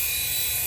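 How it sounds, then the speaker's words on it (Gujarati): Small remote-controlled toy plane flying outdoors, giving a steady high-pitched electric motor whine that holds throughout this short moment at moderate loudness. "એટલું મસ્ત વિમાન છે જો"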